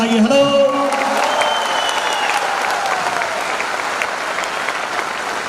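Audience applause fills a lecture hall at a goal-setting motivational seminar, a dense sustained clapping that starts loud and tapers gradually, with the odd faint voice beneath it.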